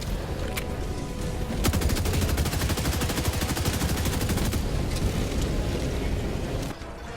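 Rapid rifle gunfire in the Helldivers 2 video game, a fast continuous burst of sharp shots lasting several seconds against bot enemies, loud and dense over a constant background rumble, with no voices.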